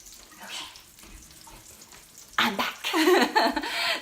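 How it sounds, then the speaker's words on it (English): Salmon patties frying in a pan, a faint quiet stretch giving way to loud, steady sizzling and crackling that fills the last second and a half. "watch it fry"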